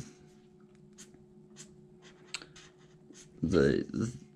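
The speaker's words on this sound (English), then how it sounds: "It's been so long since I've sketched with a bullet tip" A bullet tip marker sketches graffiti in short, scratchy strokes, close and fairly quiet, before a voice starts talking near the end.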